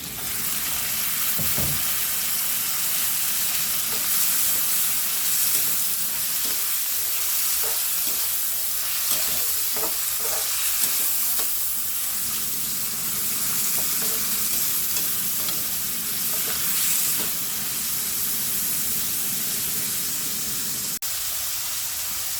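Chicken breast pieces frying in a pan for biryani, a continuous close sizzle broken by repeated scraping stirs with a utensil, steady throughout with no voices.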